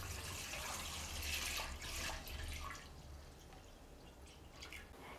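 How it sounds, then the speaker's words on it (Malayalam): A litre of milk poured into a cooking pot for sponge rasgulla, a close, continuous liquid splash and gurgle that is fuller at first and then settles into a softer, thinner trickle. "അപ്പോൾ അതിന് വേണ്ടിയിട്ട് ഞാൻ 1 ലിറ്റർ പാലെടുത്തിട്ടുണ്ട്. അത് നമുക്ക് ഈ പാത്രത്തിലേക്ക് ഒഴിച്ചു കൊടുക്കാം."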